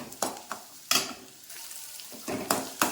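Bitter gourd sautéing in a pan for a thick relish, giving intermittent bursts of spatter and scraping as it is stirred every half second or so, close and moderately loud with quiet frying between strokes.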